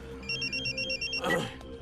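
A telephone rings in a Bollywood romantic film scene, a bright electronic trill that repeats in quick regular pulses and then cuts off, followed by a brief clatter as the handset is picked up.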